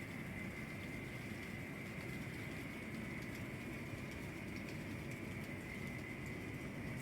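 A long N scale model train runs around a layout, making a steady, continuous low rumble and whir that holds at an even level throughout with no talking.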